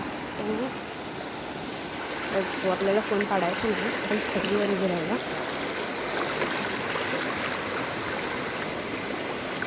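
A rushing river streams steadily in the background, a broad continuous wash of water, while a person speaks over it for a few seconds.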